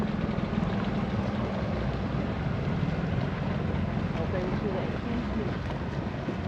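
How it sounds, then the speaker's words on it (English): A big tour boat heads out into the bay at Agios Nikolaos in the Mani, Greece, its engine a steady, dense low rumble throughout, with voices mixed in. "Here's one of the big boats just about to go out."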